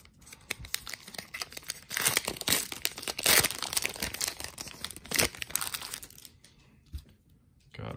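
Crinkling and tearing of the wrapping on a 2021 Topps Archives baseball card blaster box, with bursts of crackling rips and crumpling throughout, close and fairly quiet, easing off near the end.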